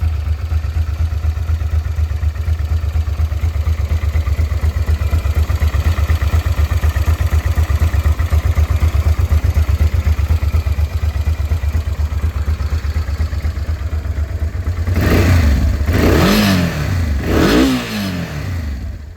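A 2000 Honda XL 650V Transalp motorcycle engine idles steadily and loudly up close for a long stretch, then revs sharply several times near the end.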